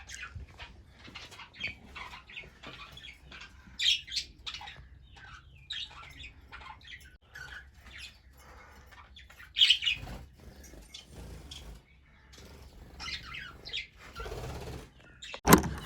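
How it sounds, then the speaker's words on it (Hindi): Pet budgerigars in a breeding setup, with scattered chirps and squawks from the adults and faint calls of chicks inside a nest box, close and fairly quiet over a steady low background hum, no talking. "उसके अलावा जो इधर थी ना हमारी फीमेल बजी, वो भी बैठी है और अंदर से आवाज़ें भी आ रही हैं"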